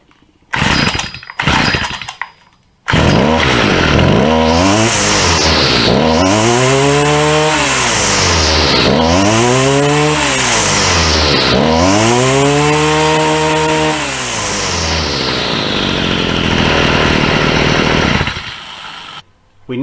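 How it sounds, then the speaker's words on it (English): A Stihl FS45 whipper snipper fires up after a few short pulls, then its small two-stroke engine revs repeatedly to full throttle in loud, whining surges before settling and cutting off. "We now have a successfully running Whipper Snipper that runs at full throttle."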